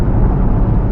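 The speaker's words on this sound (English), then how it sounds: "The Jeep, it's loud. The exhaust not that loud." A Jeep SRT engine and exhaust accelerating, a loud steady low rumble heard from inside the vehicle throughout, with no talk over it.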